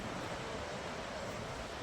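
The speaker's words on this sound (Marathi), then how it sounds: "पाणी किती वेगाने पडतंय अठरा मोऱ्याचं हे नक्की तुम्हाला मी दाखवणार आहे बघा" Water rushes through the open spillway gates of the earthen Nathsagar dam at Paithan, filled to capacity with all eighteen gates running: a steady, distant broadband roar that holds unchanged throughout, with no voices.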